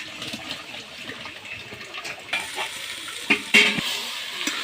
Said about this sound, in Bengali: বারবার ঘেঁটে দিতে হবে যাতে কড়াইয়ের মধ্যে না লাগে